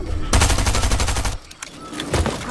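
Rapid video game gunfire, a dense burst of automatic shots close and loud for about a second, then scattered fainter shots and a second short volley.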